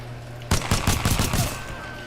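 Rapid pistol shots in Titanfall 2, a quick string of sharp, loud reports fired in succession at close range.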